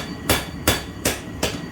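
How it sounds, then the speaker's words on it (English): A hammer strikes a steel weight bar to flatten a raised lip, four sharp metallic blows at an even, unhurried pace, close and loud with no voices. "I want to hammer that lip down to make as smooth of a transition as I can"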